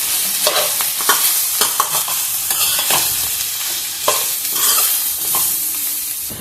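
Bitter gourd pieces tossed with chili powder in a hot pan: repeated scraping stir strokes of a spatula over a continuous loud sizzle, close up, with no talking.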